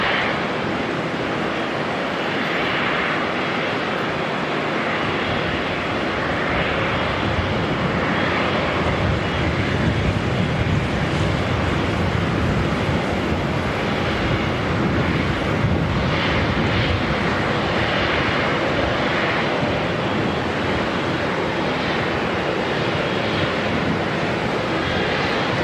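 A fixed-wing airliner passes at Auckland Airport, a steady, broad engine roar that holds loud and close for the whole stretch, with wind buffeting the microphone and no talk.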